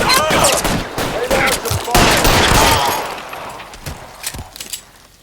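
Gunfire in the video game L.A. Noire, a loud fusillade of rapid shots with bursts and ricochets filling the first seconds, then a few scattered shots as it tapers off.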